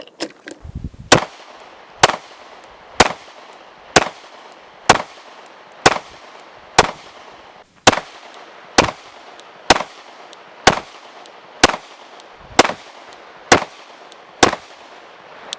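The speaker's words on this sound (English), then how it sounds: "we're going to be shooting a lot of rounds" Handgun shots fired while testing Olight Osight red dot sights, about fifteen sharp loud reports at an even pace of roughly one per second, with a few faint handling clicks at the start and no talking.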